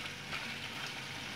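Onions sizzle gently in a pan over the heat, a soft, continuous crackling fry that stays faint and steady throughout with no voices.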